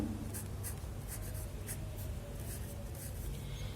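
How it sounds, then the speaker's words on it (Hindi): Pen or marker strokes write out a class 10 maths equation, quick scratchy strokes in irregular bursts, close and steady against a low constant background hum, with no talking. "में अब यहाँ लिखती हूँ"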